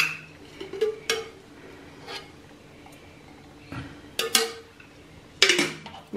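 A pan is knocked to tap out roasted spice powder for kuzhambu podi, then dried chillies are dropped in, giving a few sharp metallic clanks and rattles spaced apart, close and moderately loud, without speech.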